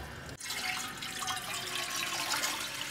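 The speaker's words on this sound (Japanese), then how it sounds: "お湯を入れていると、" Hot water being poured into a pot while boiling noodles, a steady, fairly faint splashing rush that starts abruptly and keeps running evenly for a few seconds, with no talk.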